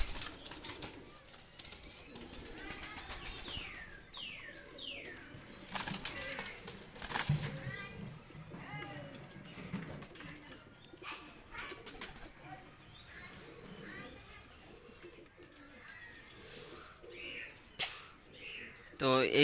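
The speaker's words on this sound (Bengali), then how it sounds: "এক পেয়ার হোয়াইট কমান্ডো কবুতর নিয়ে আসলাম খুবই ভালো মানের কবুতর" White commando pigeons coo softly amid bursts of wing flapping, with background chatter and scattered bird calls throughout.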